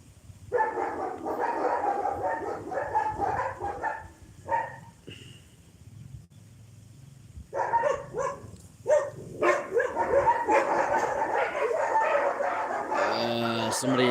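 Dogs bark repeatedly from a neighbouring yard outdoors in the Philippines, bursts of yapping coming and going at moderate distance, mixed with people talking nearby.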